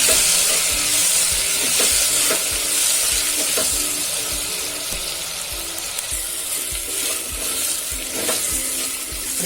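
Chopped sweet potatoes frying in a pan with tomato and chilli, a loud continuous sizzle broken by regular scraping and clanking stir strokes, no voices.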